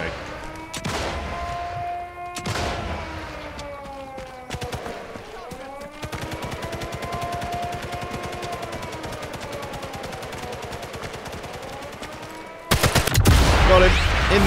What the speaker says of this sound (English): I shot him in the kneecap